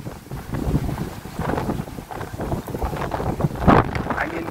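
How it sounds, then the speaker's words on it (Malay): Strong gusts buffet the microphone while fishing from a boat near the Penang bridge, a steady roaring wash of wind with water slapping beneath. "Angin pun kuat ni."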